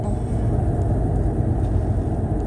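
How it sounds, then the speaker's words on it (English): A car drives along in late afternoon, heard from inside as a steady, loud low road rumble and engine drone that runs unbroken throughout. "Excuse me, I'm driving too."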